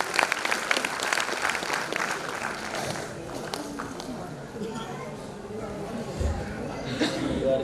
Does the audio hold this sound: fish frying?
no